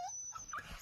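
A dog gives a short, faint, high whimper, a couple of thin whining squeaks over light background noise.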